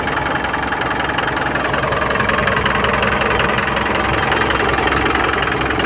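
A Mitsubishi Montero with a 4D56U diesel engine idles close by in a steady, continuous clatter with a faint knocking rhythm and no voices.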